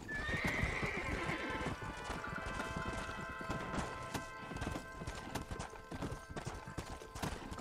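Horse hooves clip-clop in a steady rhythm with repeated neighing and whinnying in Red Dead Redemption, the game sounds close and loud throughout with no talking.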